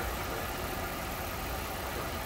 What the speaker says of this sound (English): Engine sounds good. Smooth running.